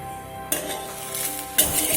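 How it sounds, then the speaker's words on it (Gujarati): Farali dhebra, a fasting flatbread, cooking in oil on a hot griddle over medium gas: a steady sizzle broken by two sharper clinks of utensils. "તવી ગરમ થવા માટે મૂકી દીધેલી છે, થોડું તેલ લગાવી દઈશું, ઢેબરું મૂકીશું। ઢેબરાને આપણે મીડિયમ ગેસ પર શેકીશું।"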